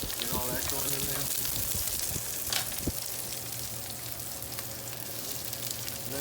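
Green pepper and onion fry in a skillet for a cowboy breakfast, a steady close sizzle and crackle running throughout, with a voice briefly over it at the start.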